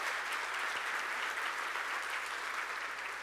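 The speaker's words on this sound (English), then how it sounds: "If we could have a huge round of applause for these 2 headline sponsors" Conference audience applauding the headline sponsors at a keynote, broad steady clapping from a large crowd heard at a moderate distance, even and sustained with no voices over it.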